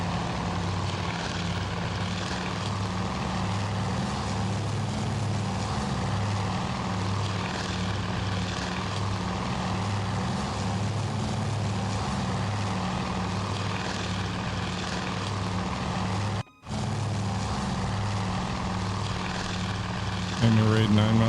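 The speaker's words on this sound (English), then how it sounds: "enemy fighters moving through the formation of dive bombers." Fighter and dive bomber engines in the Task Force Admiral naval carrier battle game, a loud continuous propeller drone with a throbbing low hum that holds steady, briefly cuts out, then resumes.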